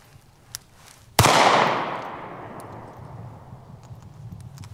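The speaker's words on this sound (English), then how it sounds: "I'm not even gonna try to hit the target with these. This is just about 2 shots" A LifeCard 22WMR pocket pistol fires a sharp, loud shot that rings out and decays slowly, preceded by a much fainter small click or pop.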